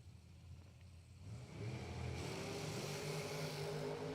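A drag race car engine revs up before staging at a drag strip event, a loud broadband roar that builds sharply after the first second and holds steady, near and alone.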